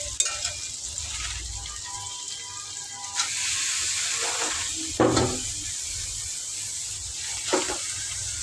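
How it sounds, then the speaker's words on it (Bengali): Potatoes and vegetable stems frying in a pan, a steady close sizzle with a few louder stirring scrapes and bursts, no talk. "ডাটা দিয়ে আলু দিয়ে ভাজি করা হচ্ছে"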